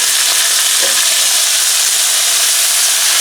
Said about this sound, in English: This will spatter.